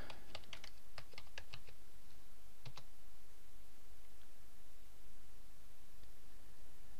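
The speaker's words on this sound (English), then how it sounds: "Let's go back to Google. Let's type in golfing" Quick keystrokes on a computer keyboard typing a search query into Google, a short burst of clicks followed by one more pair of taps, faint and close over a steady background hiss, no talking.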